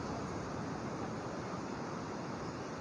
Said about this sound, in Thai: บรรยากาศของทะเลทะเลไทยทะเลภูเก็ต